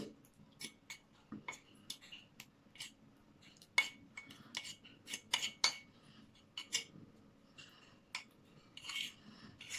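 Toothpaste, vaseline and coffee being stirred together in a bowl, with scattered light clinks and scrapes of a spoon against the dish in an uneven rhythm, quiet and close with soft pauses between strokes.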